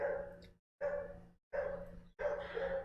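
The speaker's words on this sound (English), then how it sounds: "the damn dog again" A dog barks in four loud, close bursts separated by short silences, each burst a rough, sustained run of barking.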